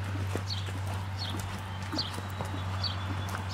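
A horse cantering in a riding arena, its hoofbeats coming as soft rhythmic thuds at a moderate distance over a constant low hum, with no talk.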